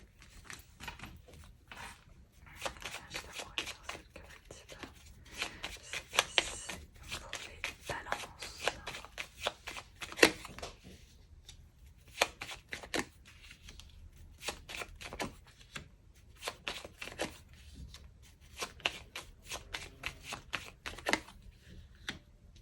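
A 32-card deck is shuffled close up, giving a busy, uneven patter of light card flicks and riffles with short pauses between bursts, and no speech over it.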